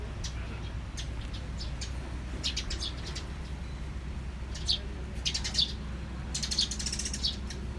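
Sparrows chirp in short, bright bursts over a steady low hum of street ambience in Thailand, the calls growing busier and clustered toward the end.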